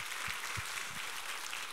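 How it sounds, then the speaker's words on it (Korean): A Korean church congregation applauds during a Sunday worship service. The clapping is brief and dense and is heard with no talking over it. "우리 하나님께 감사와 영광의 박수를 올려드리겠습니다."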